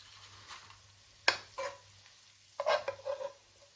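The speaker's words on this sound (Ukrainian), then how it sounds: "Дивіться, як посмажилась гарно. Цибульку з морквою." A spoon scrapes and stirs fried onion and carrot in a pan, a sharp knock followed by a few scraping strokes and soft clatters, close and fairly quiet, with no talking.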